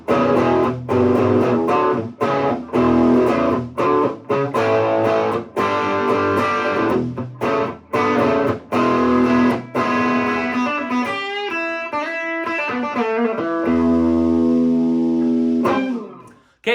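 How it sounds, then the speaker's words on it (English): Gibson 335 hollowbody electric guitar on the bridge pickup through an Orange Rocker amp with medium classic-rock distortion, playing loud choppy chords and riffs with short stops, then ringing out into sustained notes that fade at the end. "this is gonna be on the bridge pickup, and we're playing that orange rocker back there, just kind of on like a medium classic rock kind of distortion"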